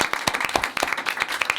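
Audience applause rings out at an evening show, a dense run of hand claps with sharp individual slaps standing out, steady and fairly close, with no talk over it.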